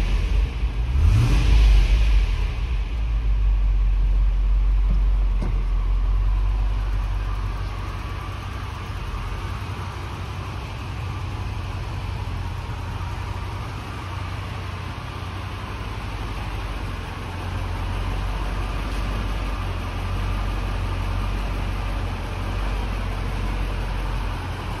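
A cold classic Range Rover idles on choke, its engine a steady, even rumble close by that holds throughout with no talking.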